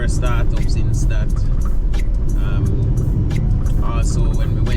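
A rebuilt Honda Civic B18C engine with forged internals, after a misfire fault, idles on its first startup with a low, steady rumble, while several people talk and exclaim over it.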